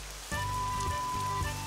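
Soft steady rain hiss in a mobile role-playing game, starting abruptly and continuing beneath low game music.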